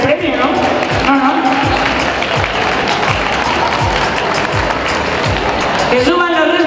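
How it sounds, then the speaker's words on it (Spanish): An audience applauds at a carnival award ceremony, the clapping running steadily under an amplified announcer's voice, with a brief tonal sting at the start and end. "Un fuerte aplauso para Pitillo."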